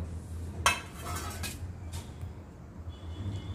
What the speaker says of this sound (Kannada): ಎಲ್ಲನೂ ಮಿಕ್ಸಿ ಜಾರ್ಗೆ ಹಾಕ್ಕೊಂಡು